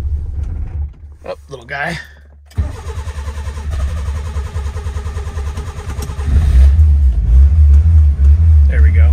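A 1979 Honda Civic CVCC engine cranking and catching on a cold start, then settling into a loud rough idle up close, with a brief spoken remark near the start.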